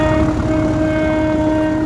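Old locomotive in a train-simulator game, sounding a sustained steady horn tone over a low engine drone, loud and unbroken.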